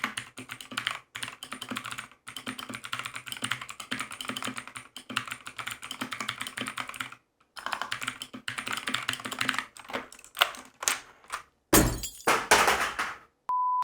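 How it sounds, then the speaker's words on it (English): A clicky blue-switch mechanical keyboard is typed on in rapid bursts with short pauses, ending with a few louder knocks and clatters. "I just can't stand the switch noise."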